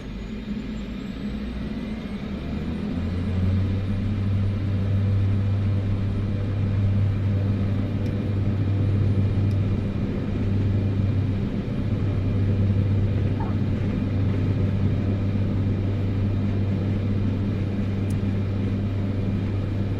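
Aircraft taking off in Microsoft Flight Simulator 2024: a steady engine drone with a low hum that builds after a few seconds and then holds at a constant, fairly loud level.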